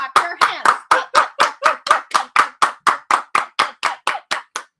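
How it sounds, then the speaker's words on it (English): Hands clap in a steady, even rhythm, about four claps a second, sharp and loud up close. A few voices mix in at the start, during a livestream Q&A. "Everybody clap your hands."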